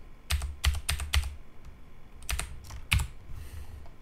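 Keyboard presses of Control Shift bracket hotkeys while folding code in Sublime Text: two clusters of sharp, close clicks separated by a short pause, then a few fainter taps, without talk.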